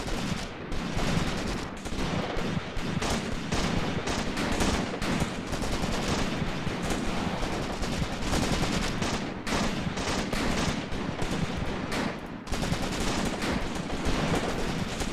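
Dense, continuous gunfire from a Graviteam Tactics battle set at Shilovo in 1942 rattles on without pause, with overlapping machine-gun bursts and rifle shots packed into a loud, unbroken roar.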